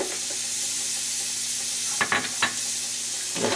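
Celery hits melted butter in a hot pan for a chicken stew, giving a steady, loud close sizzle throughout with a few scraping stir sounds near the end, and no talking.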